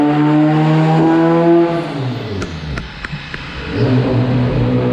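A car engine revs hard, its pitch sweeping up and then dropping, followed by sharp popping cracks and a second rising rev, loud and close with no talk.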